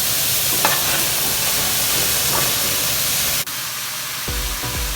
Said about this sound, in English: We cook the leeks at low heat until they are sweet and mild.